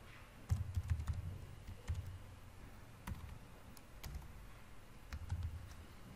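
Someone types a web address on a computer keyboard, a quiet run of soft key clicks in short bursts with small pauses between them.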